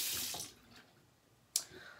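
Tap water runs into a bathroom sink to wet a hand during a bedtime skincare routine, a brief splashing rush at the start that fades, then a short sharp splash near the end.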